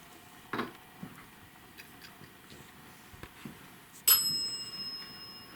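A small bell inside a cat toy ball jingles with short bright rings, a soft one early, a few faint taps, then a louder ring that decays slowly, in a quiet hotel room during a daytime paranormal investigation.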